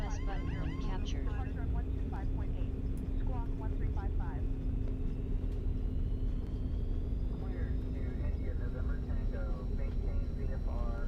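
An MD-80 rolls out after landing in a flight simulator with thrust reversers engaged, a continuous low engine rumble with a steady hum running beneath. Cockpit voices and radio chatter sound over the top.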